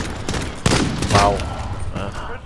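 Shots from the GS.50 cannon in Modern Warfare, a shotgun fitted with the Third Degree skin. Two or three loud, sharp blasts are spaced apart, with game ambience and a faint voice underneath.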